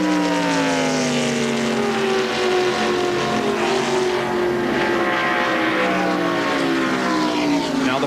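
Number 24 NASCAR stock car engines roaring at Daytona during the 1995 Pepsi 400, a loud continuous V8 drone with pitch slowly sliding down as cars pass, no talk over it.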